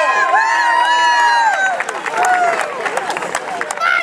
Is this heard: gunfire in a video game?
no